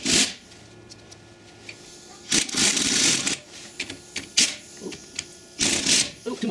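A pneumatic air tool runs down bolts on a Ford 9-inch differential housing in short, sharp hissing bursts, several loud zips separated by quieter gaps with clattering in between.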